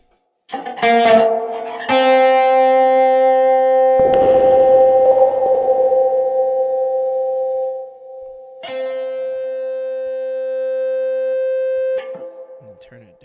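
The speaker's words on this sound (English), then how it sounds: "I think it was better with the reverb at the end." Guitar music, apparently an effects-processed groove, rings out in sustained chords with a long reverberant tail after a brief noisy burst, fairly loud with no voices over it.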